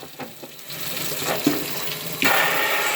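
Hot water sprayed onto a plastic light cover in a sink, a steady hissing rush of tap water that swells louder near the end, close by with no talk.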